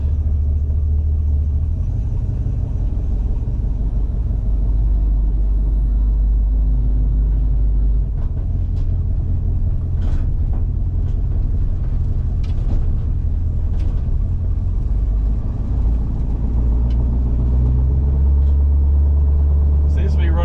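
A 1963 Chevrolet Impala with a patina finish is driven on a test drive, its engine giving a steady low rumble with road noise for the whole stretch and a few faint clicks and knocks along the way.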